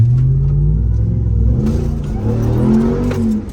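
Ram TRX pickup engine revving under acceleration, a loud, close, deep rumble that climbs through rising gears with a brief lift near the end.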